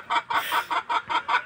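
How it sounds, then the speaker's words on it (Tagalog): A hen about to lay clucks repeatedly in a steady rhythm, six or so close, fairly loud clucks in quick succession. "May maitlog na manok"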